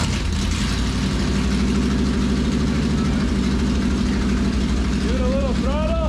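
Old Dodge Dart, left sitting for years, runs steadily with a low, even engine drone throughout; faint whistling tones creep in near the end.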